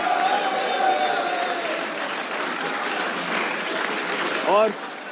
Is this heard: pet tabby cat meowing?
no